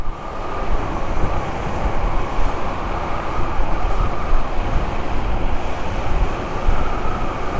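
A P1 Pro dual-hub motor electric scooter runs at full throttle, giving a steady, loud rushing drone of motor whine and wind noise that holds constant without pause.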